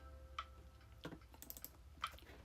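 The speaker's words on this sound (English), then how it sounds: "You guys can probably hear the frantic mouse clicking" Fast computer mouse clicking while playing The Tower idle tower defense game, a quick irregular run of faint clicks with a couple of louder taps near the start and end.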